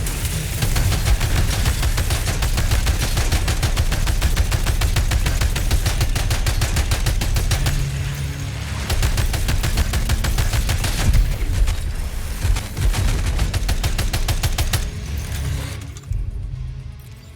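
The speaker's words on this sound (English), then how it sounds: "Just let me pick up the heavy machine gun." Heavy machine gun firing in Death Stranding 2, a loud sustained stream of rapid automatic bursts with brief gaps, dense and close, tapering off at the very end.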